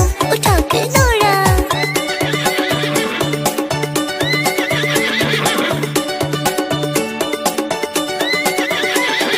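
A horse whinnies loudly at the start, then hooves clip-clop in a steady galloping rhythm under a bright, busy musical backing, with further short whinnies later.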